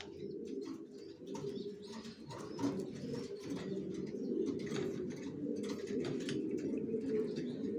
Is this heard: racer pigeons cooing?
yes